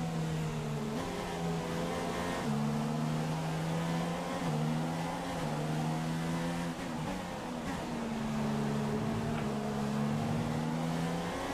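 Formula 1 race car engine in F1 2016 at the Hungarian Grand Prix, a loud, steady high-pitched whine that drops in steps as the car downshifts to fifth gear, heard continuously from onboard.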